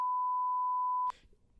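A steady, loud, pure censor bleep in a spoiler discussion about anime and manga. It holds for about a second and then cuts off abruptly into faint room noise.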